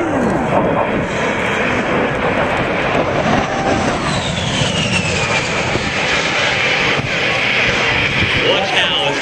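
A Fairchild A-10 Thunderbolt II jet roars loudly overhead at the Denton airshow, a continuous close engine rush with shifting whine as it maneuvers, while an announcer talks over it.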